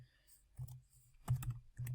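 Quiet, sparse key presses tapped on a CAS handheld calculator, a few soft clicks spaced irregularly over a faint background.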